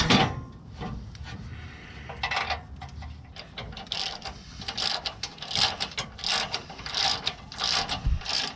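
Hand ratchet tightening bolts while reinstalling the skid plate on a Ford Bronco, with rapid rhythmic clicking in repeated close bursts throughout.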